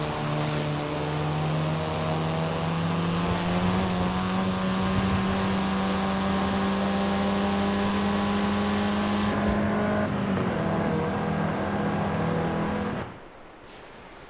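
Race car engine in Forza Horizon 5, a loud sustained drone that rises steadily as it accelerates, then shifts and cuts off abruptly near the end, leaving quieter background noise.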